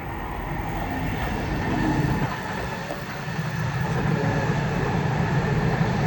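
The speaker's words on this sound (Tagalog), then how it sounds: "natawag nilang bullet train. Ayan mo, ang bilis yan." A bullet train in Japan rushes along with a steady, loud roar and rumble of wheels on rails, heard from inside or very close.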